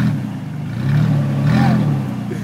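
A stuck prerunner truck engine roars as it is power braked, a loud sustained rev rising and swelling over about two seconds.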